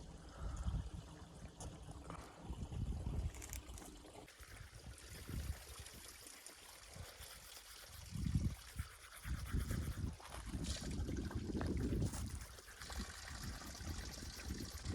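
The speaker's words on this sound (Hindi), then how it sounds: "यहाँ पे मेरे को पानी की आवाज़ आ गई इस साइड से।" Water trickling and gurgling from a natural spring outdoors at a cold December campsite, a soft, uneven flow that swells and fades in bursts, fairly faint with some handling noise.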